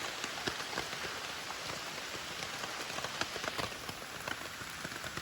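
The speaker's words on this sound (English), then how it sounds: "just from the rain coming down" Steady rain falls throughout on a hike along the Uwharrie Trail at Walkers Creek during a storm, a dense close patter with scattered louder drops striking nearby surfaces, no voices.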